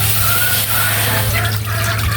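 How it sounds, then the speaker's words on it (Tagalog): Water is poured steadily into a cooking pot for a home-cooked vegetable dish, giving a close, continuous splashing rush with no talking. "Lagyan po tubig."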